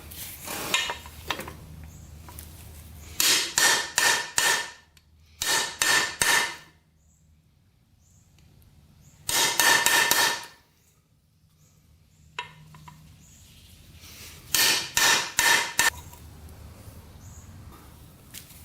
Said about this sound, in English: I had to really pound on that thing using a socket like this so it gets the outer edge of the bearing.